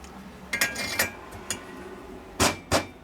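Metal part being hammered onto a 1965 Harley-Davidson panhead cylinder head during a valve job, heard as about five sharp ringing strikes spaced irregularly, the last two loudest, with no talk.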